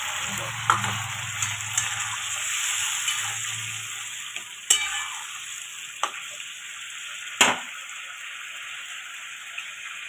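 Curd stirred into a pointed gourd (dohi potol) curry gives a steady, hissing sizzle, with a low bubbling rumble early on and several sharp clacks of a spoon against the pan; no talking.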